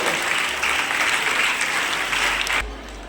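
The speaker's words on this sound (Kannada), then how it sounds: "ತಮ್ಮೆಲ್ಲರ ಜೋರಾದ ಚಪ್ಪಾಳೆ ನಮನಗಳು" Loud, dense applause from a crowd at a school letter-initiation ceremony, sustained clapping that stops abruptly near the end.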